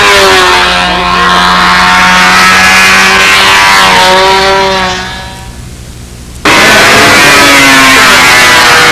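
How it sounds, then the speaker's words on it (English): A detonating airplane engine at the 2001 Brodak fly-in roars loud and close as a steady, harsh buzzing whine that shifts in pitch, sags and thins for a moment, then snaps back to full power. "don't let anybody tell you that's pipe rattle, that's detonation"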